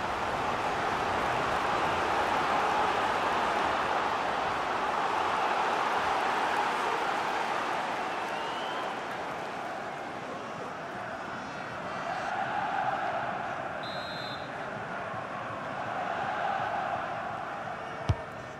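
Stadium crowd at a FIFA 22 Hungary vs Italy Nations League match, a steady, distant roar from many voices that swells and falls, rising again in the later part.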